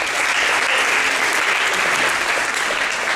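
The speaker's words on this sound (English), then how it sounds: "So give yourselves a round of applause." Comedy show audience at a club giving a loud, sustained round of applause, dense crowd clapping that holds steady throughout without talk on top.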